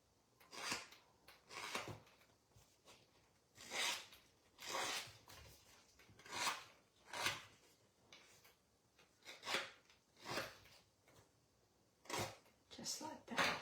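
Card paper edges get distressed with repeated rough scraping strokes, about a dozen short rasping bursts in a steady rhythm, close and fairly quiet.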